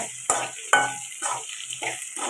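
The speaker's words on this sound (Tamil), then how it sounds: "இந்த மாதிரி நல்லா வதக்கி வச்சுக்கோங்க" Vegetables sauté in a pan for a dried fish curry, a continuous soft sizzle broken by several scraping stirs of a spatula at close range, with no one talking.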